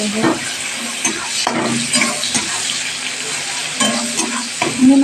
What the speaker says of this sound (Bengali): মাছটা দিয়ে দিলাম কড়াইতে